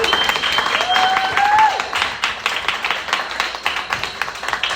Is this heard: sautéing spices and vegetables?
no